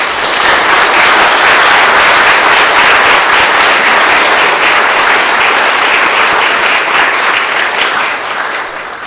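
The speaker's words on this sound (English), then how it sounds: "please welcome him with a big applause" A lecture audience at the Vedanta Society in Berkeley welcomes a speaker with loud, sustained applause that holds evenly for about nine seconds before easing off at the very end.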